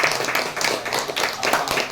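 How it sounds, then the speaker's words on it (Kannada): A crowd bursts into dense clapping applause at a birthday gathering held at an old-age home, a brief, close round of many hands. "ನಾವು ಕೂಡ ಜೋರಾದ ಚಪ್ಪಾಳೆಯೊಂದಿಗೆ"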